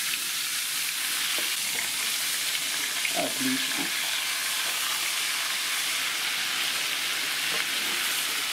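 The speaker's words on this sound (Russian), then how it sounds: "Друзья, карасей жарю на сильном огне." Whole crucian carp fry in a pan over high heat, giving a steady, loud sizzle and hiss throughout with a few soft clinks, and one short spoken word partway through.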